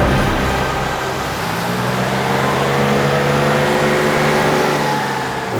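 A car driving along a road produces a steady, loud engine drone and road rumble, heard from close by without a break, as a scene in a crime drama.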